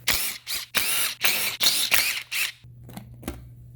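A 10 mm socket and ratchet work loose the valve cover bolts on a Subaru EJ boxer engine, giving a run of loud, close, rapid ratcheting bursts, then a few quieter clicks.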